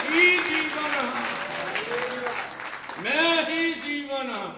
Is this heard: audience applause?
yes